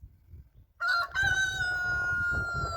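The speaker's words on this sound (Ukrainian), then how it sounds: "Півник та курочки також нам складають компанію." A rooster crows once, loud and close, its drawn-out call ringing over a quiet outdoor background in a farmyard.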